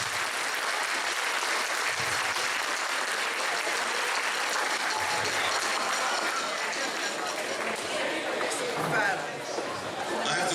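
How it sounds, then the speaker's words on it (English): Audience applause at the Romford Drum and Trumpet Corps 65th reunion, steady dense clapping filling the hall throughout, with crowd chatter mixed in. "give our ex-members a round of applause for being such good sports"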